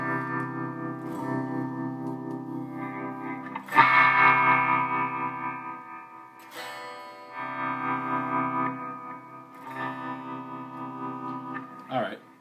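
Gibson Firebird electric guitar through its bridge pickup, strummed chords ringing with a bright, slightly driven tone and effects, each chord left to decay before the next, up close.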